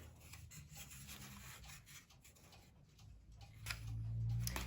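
Pencil rubs and scratches on paper while tracing heart shapes, a soft continuous scraping with faint strokes, quiet and close, no voices.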